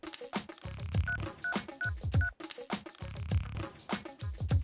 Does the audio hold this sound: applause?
no